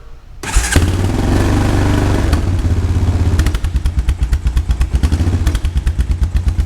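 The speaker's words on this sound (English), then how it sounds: "Just needs a little bit of throttle when you first start it, and then it runs fine." A Honda Recon ATV engine cranks and fires up loudly at close range, running with a heavy, chugging rhythm that settles into a pulsing, uneven idle with clattering beats.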